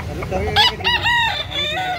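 A rooster in Carbon, Cebu City lets out a short crowing call in several strained, rising bursts, close and fairly loud over faint background noise.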